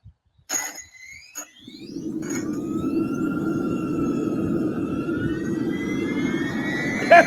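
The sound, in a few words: aircraft jet engines starting up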